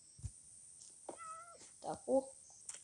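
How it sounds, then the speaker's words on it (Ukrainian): A cat gives a few short, quiet meows in a loose sequence, with soft background noise between them. "кішечка"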